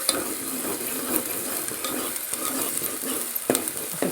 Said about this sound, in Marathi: पुन्हा हलवायचं असं